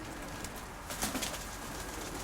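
Pigeons in a loft coo faintly under a steady hiss, with a brief rustle and louder burst near the middle and no talking.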